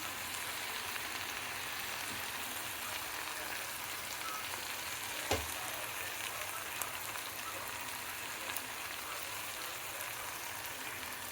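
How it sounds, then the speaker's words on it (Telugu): Green moong dal curry frying in a pan: a soft, continuous sizzle and crackle heard close and fairly quiet, with one brief knock partway through and no talk. "ఇలా వేగాలండి బాగా."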